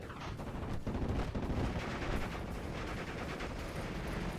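Aircraft strafe in the WWII strategy game Steel Division 44: dense, continuous rattling bursts of gunfire blend with heavy booming impacts, loud and sustained throughout with no voices.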